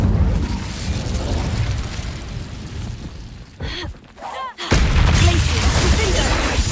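Incendio fire spell cast in the Hogwarts Legacy video game, with a loud burst and boom of flame over game ambience, a short quieter gap, then a dense roaring blast that sustains.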